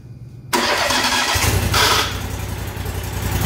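The engine of a Brute Jetter 4009 sewer jetter, started by remote, catches after a brief crank and roars up loudly with a squalling rev, then settles into a rough, steady idle close by.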